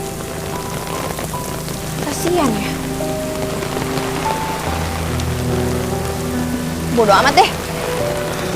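Steady rain pouring down on surfaces in a park, a loud continuous hiss with people talking briefly over it.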